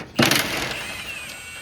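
A 14 mm head bolt being run out during an STI draw stiffener install on a Subaru BRZ, Scion FR-S or Toyota 86, heard as a short, close mechanical whirring burst that fades into a quiet background.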